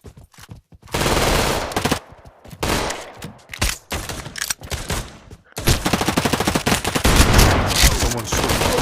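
Rapid automatic gunfire bursts in a video game, loud and close, alternating with brief pauses, then a sustained stretch of sustained firing.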